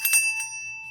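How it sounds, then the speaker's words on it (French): A small hand bell rings once as an intro to a French-language stamping craft demonstration, bright and close with a couple of quick strikes and a clear lingering tone. "petite cloche pour compenser pour le manque de musique comme intro"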